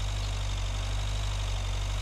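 Tractor engine idles steadily in Agricultural Simulator 2013, a continuous low rumbling drone with an even hum, close and unchanging throughout.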